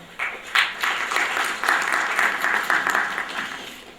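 Warm applause from the crowd at a New Delhi award function greets a guest receiving a bouquet, several seconds of steady, fairly loud clapping from many people, with no voices over it.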